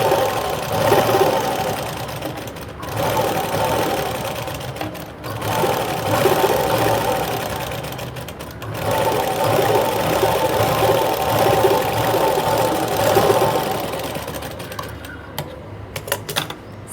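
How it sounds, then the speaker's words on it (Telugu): A sewing machine top-stitching a blouse runs in long, steady bursts of rapid mechanical stitching with brief stops between runs, loud and close. "దాని మీద పడేటట్టు టాప్ స్టిచ్ చేసేసుకోండి."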